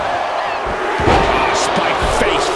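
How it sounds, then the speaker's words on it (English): Arena crowd in WWE 2K24 during a Royal Rumble match, a loud continuous roar of cheering with chanting swells, under a commentator's voice. "Listen to this crowd count the next one in."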